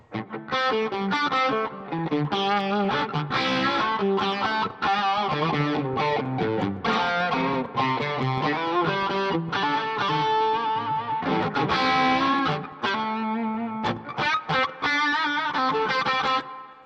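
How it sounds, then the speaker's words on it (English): Electric guitar played continuously with a distorted, effects-laden tone, notes smeared by delay and reverb, loud and steady throughout. "I want to be able to have some delay and reverb on my guitar"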